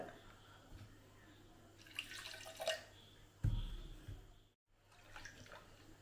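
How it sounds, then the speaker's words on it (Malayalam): Water splashing and sloshing inside a blender jar being rinsed, in brief rushes, fairly quiet, with a short pause before a final swirl. "എന്നിട്ട് ആ ജാറ് കഴുകി കുറച്ച് വെള്ളം ഒഴിക്കാൻ നോക്കാം അതിനകത്തിൽ."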